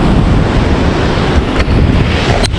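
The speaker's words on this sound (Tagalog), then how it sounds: "Kasi ang lakas ng alon dito." Powerful surf crashes continuously at Bondi Beach in Sydney, a loud, close roar of breaking ocean waves with wind buffeting the microphone throughout.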